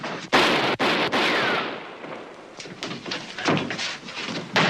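Gunshots fired at a door in an old crime drama, several loud sharp blasts in quick succession at the start, followed by scraping and banging noises as the door is worked on.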